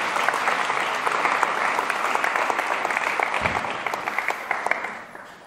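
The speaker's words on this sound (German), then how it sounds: "Ich würde sagen, eine große Runde Applaus einmal für die beiden" Sustained audience applause at a German symposium talk on series adaptations, a dense steady wash of clapping that holds loud for several seconds before tapering slightly at the end.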